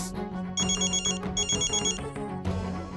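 A phone rings with an incoming call, a bright repeating ringtone melody sounding in two clear bursts with a short gap, then a lower tone as it continues.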